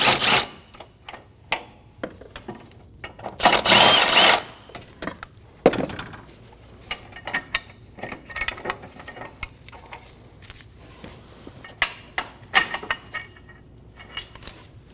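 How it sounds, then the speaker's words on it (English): A ratcheting 17mm socket wrench removing engine mount bolts on a 2008–2015 Scion xB 2.4L four-cylinder, close metallic clicks and taps in irregular bursts, one longer sustained grinding stretch partway through, no voices. "Using a 17mm socket, remove the 2 inside bolts."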